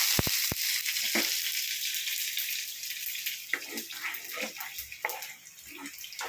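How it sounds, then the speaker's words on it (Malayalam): Curry leaves dropped into hot oil with tempered mustard seeds for a prawn and tamarind coconut curry, giving a soft steady sizzle with a few sharp pops and clinks nearby. "നമുക്ക് കടുക് വറുത്തതിനകത്ത് ഇച്ചിരി കരിവേപ്പില ഇട്ട് കൊടുക്കാം."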